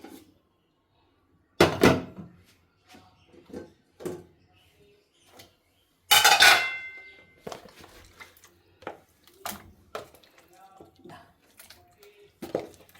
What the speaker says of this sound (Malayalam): ഇനി ഇതിലേക്ക് നമുക്ക് മട്ടൺ ഇട്ട് കൊടുക്കാം.